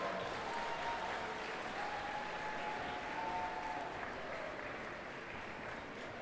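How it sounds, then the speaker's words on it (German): Audience at a cosplay contest on a convention main stage applauding, a sustained even wash of clapping from a large crowd throughout, with no talk over it. "Nochmal einen riesigen Applaus, bitte."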